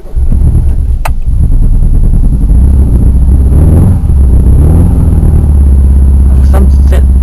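A car engine revs as the throttle is gunned hard and quick, a loud close rumble rising and falling steadily, with a voice talking over it.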